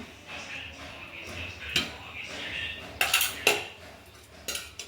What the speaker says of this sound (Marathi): आता कढई इथं ठेवलेली आहे